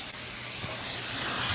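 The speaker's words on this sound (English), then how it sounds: "I'm going to take my pan here and I'm going to spray it pretty good" Continuous close hiss of baking spray containing flour being sprayed into a cake pan, steady and fairly loud, with no talking.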